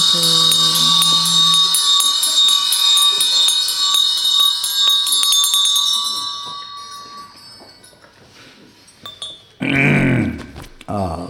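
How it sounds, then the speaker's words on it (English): A small ritual bell rings in a run of rapid, bright metallic strokes during a Buddhist guru devotion practice, shimmering tones that fade out before a short burst of voice. "while you're ringing the bell"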